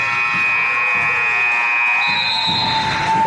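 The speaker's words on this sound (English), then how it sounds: "At the buzzer." Buzzer ending a PSAL girls high school basketball playoff game, a steady electronic tone sounding over loud gym crowd noise and cheering.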